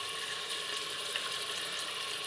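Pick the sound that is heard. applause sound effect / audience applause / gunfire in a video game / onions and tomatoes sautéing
onions and tomatoes sautéing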